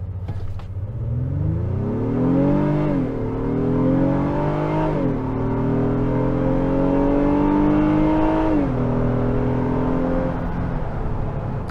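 A 2023 Honda Pilot engine in sport mode revs up hard through several gear shifts, pitch climbing steadily then dropping at each change, loud and continuous from inside the vehicle.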